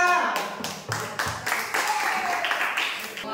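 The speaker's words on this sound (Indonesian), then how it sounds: "Oke, tepuk tangan semuanya." Classmates clap after a group presentation in an Indonesian classroom, a ragged burst of handclaps that thins into scattered taps, with voices mixed in.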